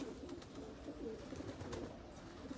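Racing pigeon coos softly at a loft, low murmuring calls repeating over steady background noise with no speech.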